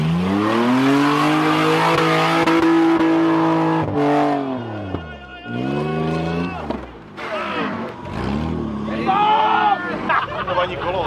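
Off-road 4x4 engine at a muddy off-road weekend event, loud and close, revving in long rising and falling sweeps with a brief drop between pushes, over crowd chatter.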